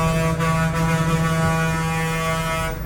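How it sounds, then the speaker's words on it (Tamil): A loud, sustained horn blares continuously for several seconds, a deep steady honk holding one pitch without pause. "பாருங்க ஹார்ன் அடிச்சுக்கிட்டே தாங்க இருக்கிறாங்க"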